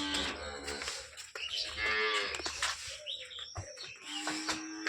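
A large cow moos several times close by, long drawn-out calls separated by short gaps, with birds chirping faintly in the background of a rural farmyard.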